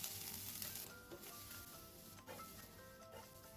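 Meat stir-fry for martabak telur sizzles steadily in a hot pan, a close, continuous crackling hiss with faint scraping from stirring, with no voices.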